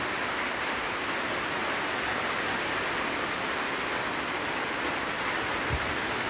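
Steady rain falls without pause, a dense, even hiss filling the whole stretch with no talking.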